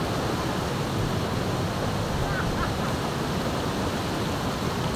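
Fresh water in a mountain stream rushes and splashes in a steady, dense hiss that stays constant throughout without pause.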